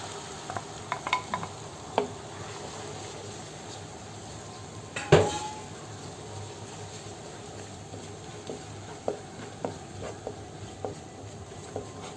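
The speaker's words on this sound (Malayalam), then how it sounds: "നമുക്ക് ആ മുട്ട അടിച്ചത് ഇതിനകത്തൊന്ന്" Beaten egg frying in a pan with drumstick pieces for a Kerala egg drumstick thoran: a soft, low sizzle, a sharp clatter of a utensil against the pan near the middle, and scattered light scraping and stirring taps.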